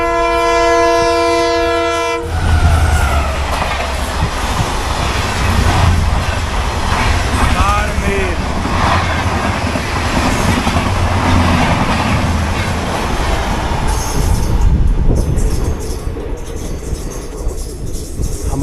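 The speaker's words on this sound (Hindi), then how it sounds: "सामने से श्री गंगानगर इंटरसिटी ऋषिकेश के लिए जो ट्रेन जो है वो छीटावाला स्टेशन से" Sri Ganganagar–Rishikesh Intercity train passing at speed through Chhitawala station in India, a loud continuous rumble of wheels and coaches with a horn blast at the start, heard close by without speech.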